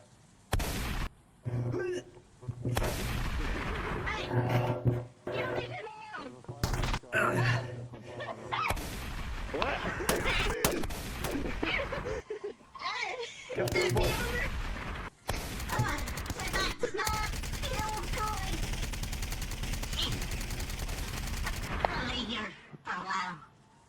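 Gunfire aimed at a gate during a VRChat roleplay: sharp, loud bursts of shots broken by brief silences, mixed with people talking over the firing.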